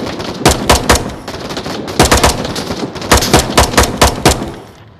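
Rapid bursts of gunfire from the video game Fortnite, loud and close, coming in tight clusters of four or five shots with short gaps between them, with no talk over it.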